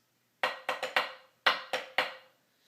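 A short snare drum cadence pattern of seven sharp, ringing hits with a rim shot, a quick group of four then three, played alone and all accented.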